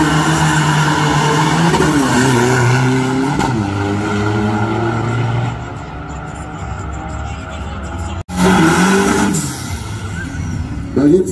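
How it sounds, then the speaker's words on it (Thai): A drift car at the start line of a burnout race, engine roaring and tires squealing in a long, loud, continuous skid with pitch sweeps, an announcer's voice running over the noise. "รถสไลด์ลงแข่งด้วยครับ"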